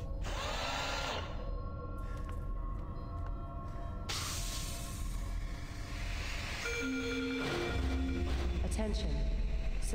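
Drilling in the video game Serpent in the Staglands: a loud mechanical whirring and grinding that shifts in pitch and intensity, with rumbling underneath throughout.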